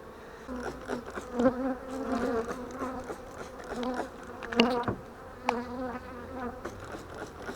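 Honeybees buzz loudly and continuously around an open hive while frames are handled, a dense droning swarm with shifting pitch and occasional closer fly-bys, no voices.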